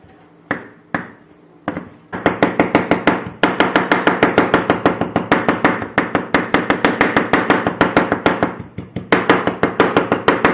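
A knife finely chops fresh herbs with a few slow, separate strokes, then a long run of fast, even, sharp taps on a board, close and loud, pausing briefly once before carrying on.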